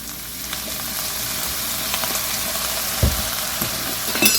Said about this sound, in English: We're gonna put in a couple dashes of soy sauce.